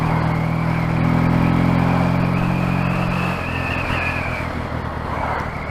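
A Triumph T140E motorcycle drones along at steady revs with a strong low hum, loud and close, then eases off slightly partway through. Road and wind noise run underneath, and no one speaks.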